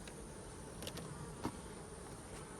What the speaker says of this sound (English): So that bee's attacking that small hive beetle.